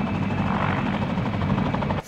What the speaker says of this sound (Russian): Круг почета над Бобровкой для всех желающих обеспечивают два вертолета Ми-2.